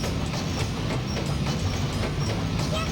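Ghost train in the Sonic Adventure 2 Battle video game, a steady rumbling rolling rail sound with faint rhythmic clatter, continuous and moderately loud throughout with no talking.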